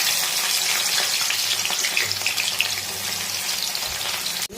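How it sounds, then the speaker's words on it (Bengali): Loud, continuous frying hiss fills a pan during cooking of an egg kosha curry, with a steady close crackle and no talking. "ভালো করে ভেজে নেব।"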